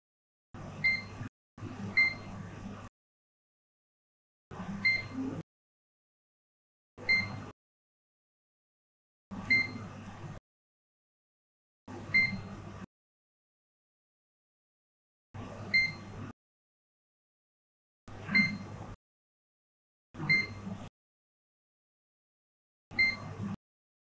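A multimeter set to diode mode on an Antminer hash board gives short repeated beeps, about ten faint bursts spaced a couple of seconds apart with silence between, close to the microphone.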